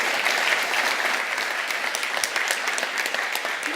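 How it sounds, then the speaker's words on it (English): Dense, steady applause from an audience at a Toastmasters evaluation speech contest, many hands clapping continuously at an even level with no pause, fairly close. "I would also like one more round of applause"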